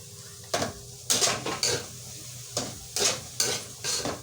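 Baguio beans and kinchay celery being stir-fried for pancit, with a utensil scraping and clanking against the pan in a quick, irregular rhythm over a steady low sizzle, close and fairly loud.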